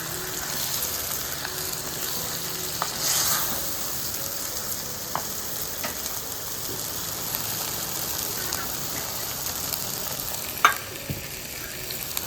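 Chicken sizzles steadily as it fries in a pan for biryani, with continuous close crackling, a few stirring scrapes and clinks, and no talking.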